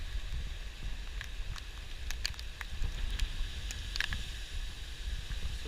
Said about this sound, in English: Still a lot of wind, as you can see.